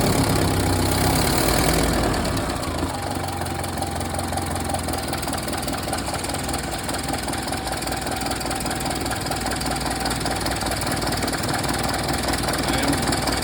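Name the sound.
Ford Model A engine idling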